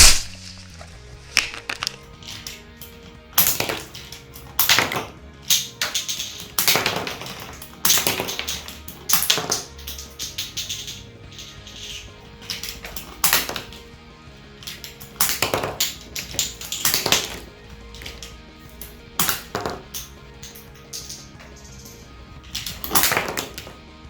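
Bottleman DX Dock Papillon bottle-cap shooter toy launching caps at targets: a string of sharp, snappy clicks and impacts, some single and some in quick pairs, ringing out close and loud over a quiet background with no talk.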